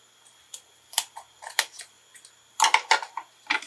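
Scissors cutting card pieces in half while crafting a summer card, a run of crisp close snips and clicks in irregular bursts with a quick cluster near the end, no talking.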